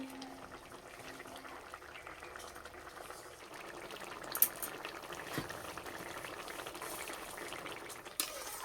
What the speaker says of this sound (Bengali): ডিম দেওয়ার পর একবার ফুটিয়ে নিলেই হয়ে যাবে।